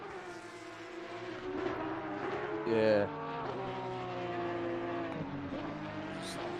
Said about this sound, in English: I love how they sound, these cars, like little angry bees.